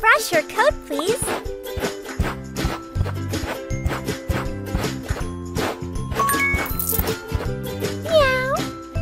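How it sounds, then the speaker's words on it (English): Cartoon cat meows from a pet care video game, several bright rising calls over jingly game music and tapping effects, with a child-like voice talking between them. "Meow."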